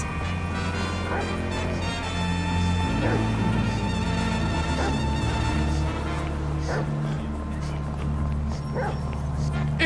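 Dog from Grand Theft Auto 5 barking, yipping and whimpering while being chased, with several short sharp barks over a steady rumble of game music and noise, and a voice talking in between.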